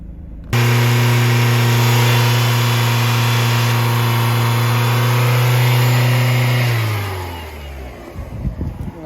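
A 2004 Dodge Neon's 2.0L engine is held at a steady high rev by its throttle cable, a loud sustained drone that drops back toward idle near the end.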